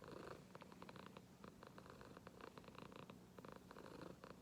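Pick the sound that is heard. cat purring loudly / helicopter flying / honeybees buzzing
cat purring loudly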